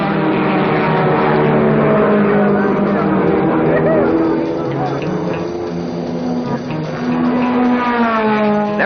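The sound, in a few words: race car engines at Sebring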